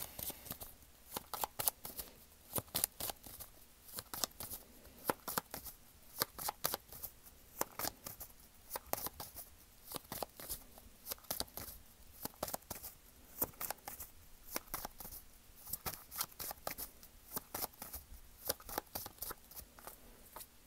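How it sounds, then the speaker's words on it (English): Steady riffling and snapping of a deck of cards being shuffled over and over, close and crisp, with no voices. "I'm going to shuffle the cards, lay them out"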